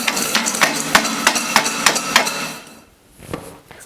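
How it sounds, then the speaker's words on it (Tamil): Cashew biscuits and chili powder are shaken together in a vessel covered with a plate. The result is a rhythmic run of hard knocking rattles about three per second, which stops abruptly and is followed by a couple of faint knocks. "இப்போ ஒரு பிளேட் போட்டு மூடிட்டு நம்ம நல்லா கலந்து கொடுத்துக்கலாம்"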